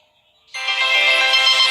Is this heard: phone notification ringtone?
yes